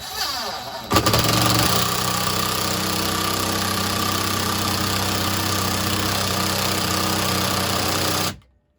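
An impact driver struggling with a large screw kicks in and hammers with a rapid, buzzing rattle for several seconds, loud and close, then abruptly stops.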